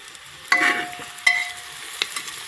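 Cumin, mustard seeds and chilli dropped into a small amount of hot oil for dal khichdi, giving short sizzling bursts with stirring clinks, two sharp onsets then a lighter crackle, close and fairly quiet, with no talking.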